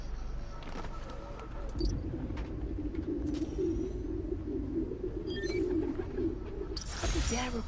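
Pigeons in a park coo together as a sound sample in the Spider-Man: Miles Morales video game, a steady low murmuring chorus over several seconds with faint background noise and a few brief higher tones.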